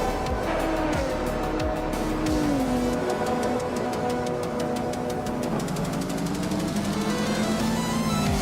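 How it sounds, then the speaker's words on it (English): AI-driven race cars in a racing video game, engines whining and shifting pitch as they accelerate, with tire squeal and rapid rhythmic engine pulses, loud and continuous without talk. "Hope you're ready to see some exciting AI car races."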